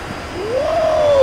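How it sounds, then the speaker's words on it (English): An Antonov jet airliner's engines spool up for takeoff in a flight video game, a loud, steady roar whose whining tone climbs and then holds, with no voices. "Hear that engine?"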